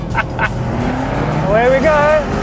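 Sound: BMW M8 Competition and Range Rover Sport SVR drag racing

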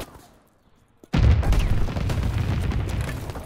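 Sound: anti-aircraft fire explosions in video game Call of Duty WWII

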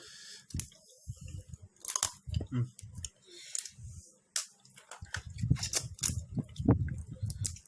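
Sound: biting and chewing food

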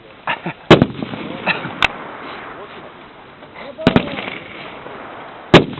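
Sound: gunfire at a shooting demonstration

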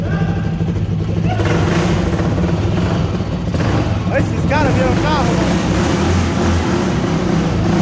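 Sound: Ford Fiesta with Twister motorcycle engine revving

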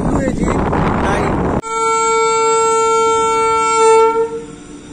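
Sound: train moving out for shunting at railway station

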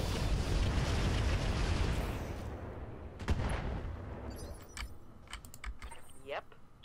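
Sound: mech weapons firing in video game Roguetech

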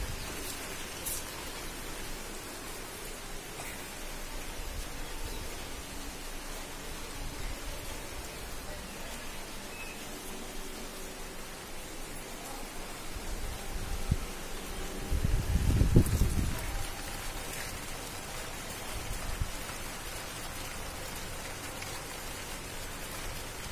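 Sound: rain falling outside

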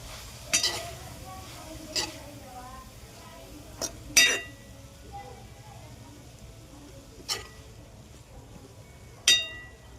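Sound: stirring and sautéing dill greens with lentils in a pan

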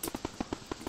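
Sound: firework going off in Roblox Bloxburg video game

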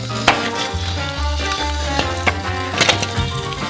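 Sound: churro dough frying in hot oil in a pan

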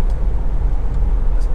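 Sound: Honda CR-V 2.2 i-DTEC engine starting and idling

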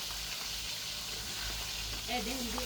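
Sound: mixing spices with oil, salt and chili in a pan

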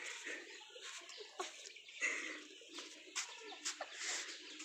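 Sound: chickens and chicks at a poultry farm

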